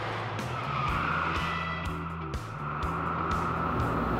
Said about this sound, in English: we were able to take a car and make a little bit of tire smoke inside